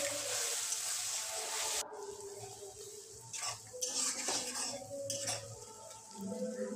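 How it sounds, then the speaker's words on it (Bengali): Spice paste with a splash of water stirred and frying in a pan, a loud sizzling hiss at first, then quieter with scattered utensil scrapes and clinks against the pan. "সামান্য একটু জল দিয়ে মশলাটা কষে নেব"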